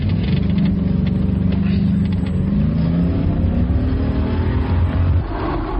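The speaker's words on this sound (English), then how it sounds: "Start your engine." A car engine running loud and steady, revving and rising in pitch as it accelerates over about six seconds, with a muffled voice faintly underneath.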